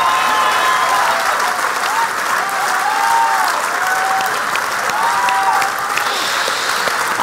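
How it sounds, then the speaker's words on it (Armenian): A studio audience applauds loudly and continuously for a dancer from Sona Yesayan Dance Studio on an evening TV show, dense clapping throughout with whoops and cheers rising over it. "բարձր ծափարենք Սոնային"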